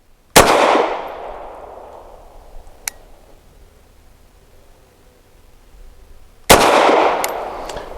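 Bersa TPR 380 pistol fired outdoors: two loud, sharp shots several seconds apart, each with a long fading echo, and a faint click between them.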